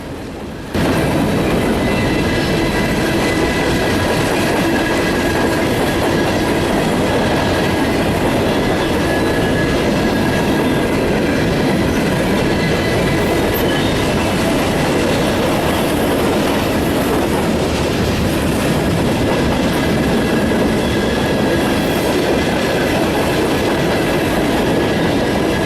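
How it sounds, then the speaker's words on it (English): A Norfolk Southern freight train rolls through town, a loud, steady rumble of railcars with rhythmic clickety-clack of wheels over rail joints and faint wheel squeal, continuous for the whole stretch without voices. "A little bit after this NS freight train came through town"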